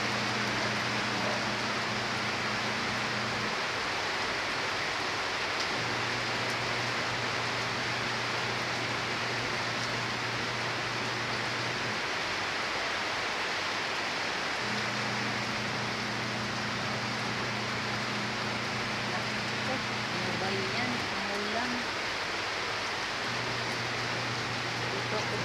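Heavy rain pours in a steady broadband wash for the whole stretch, with a low hum coming and going underneath.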